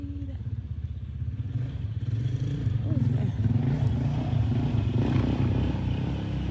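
A motorcycle engine rumbles steadily nearby on a snowy North Carolina day, its low drone swelling slightly as it moves past, with a person talking over it.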